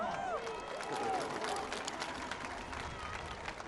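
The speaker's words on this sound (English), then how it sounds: "The mother of Dontre Hamilton, give her a round of applause." An outdoor political rally crowd in Washington, D.C. applauds and cheers, a busy wash of clapping and voices heard from within the crowd, with a few whistles early on.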